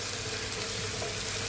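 Onions frying in a pan, a steady close sizzle with a broad hiss that holds evenly throughout, no voices.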